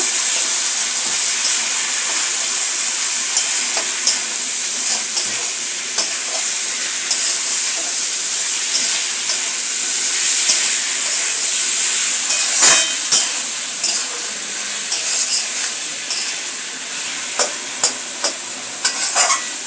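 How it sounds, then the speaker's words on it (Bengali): Spices for an amudi fish curry are fried and stirred in a pan, with a loud, close, continuous hissing sizzle and frequent scraping taps of the spoon. "এই মশলাগুলোকে দিয়ে ভালো করে কষবো"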